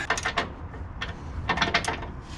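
Lift kit bolts on a truck axle and drag link being tightened with a ratchet wrench, giving several quick bursts of clicking close up, with short pauses between pulls.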